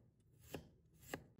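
A knife cutting fresh ginger into thin slices on a board, two crisp chopping taps about half a second apart, close but quiet over a low room hum, no talking.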